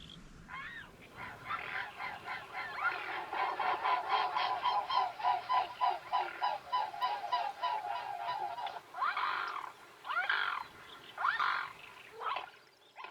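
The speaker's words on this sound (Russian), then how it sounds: "к нам на зов прилетел лебедь" A wild swan on the Manych steppe wetlands gives loud, repeated honking, trumpeting calls in a rapid rhythmic series, then separate bursts of calls further apart, with no talk.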